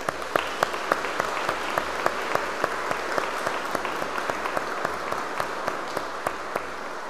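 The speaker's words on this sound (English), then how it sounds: "We give thanks for our graduates with our applause." A church congregation applauds graduates, with steady, dense clapping from many hands at an even level and a few sharper individual claps standing out through the whole stretch.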